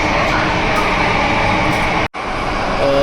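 A Mumbai Metro Line 3 train runs with a loud, steady rumble and whir, broken by a brief dropout, then a faint rising electric whine near the end.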